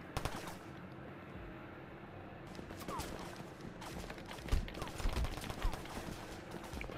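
Gunfire from police officers in the Roblox video game, a series of sharp, close shots and bursts over a steady noisy background, with a couple of louder hits later in the sequence.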